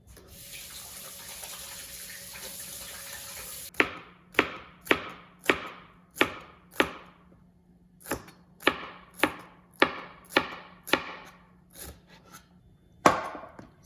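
Thin-sliced beef for bulgogi is cut with a knife on a board, about a dozen crisp, evenly spaced chops ringing out clearly after a stretch of running tap water.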